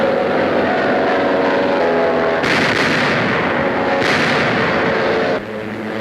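Heavy gunfire and explosions in a WWII attack as Japanese planes strafe and dive-bomb ships of a carrier force, a dense loud barrage with several sharp blasts, then dropping slightly at the end.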